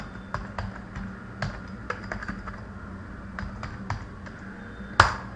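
Keystrokes on a computer keyboard, typed as a command for listing hard disk volumes, sound as irregular light clicks spread across the clip, ending in one sharper, louder tap.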